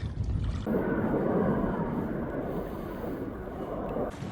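A strong westerly wind blows across a polluted industrial river in New York City during a kayak trip. It rushes and buffets close to the microphone as a steady, loud roar with gusts.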